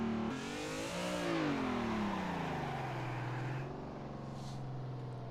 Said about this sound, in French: la voiture part en dérive, je laisse faire le volant, je le lâche